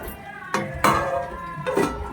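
A lid clanks onto a metal cooking pot of simmering cauliflower curry, a few close metallic knocks and clinks with a brief rattle, loud against a quiet kitchen background.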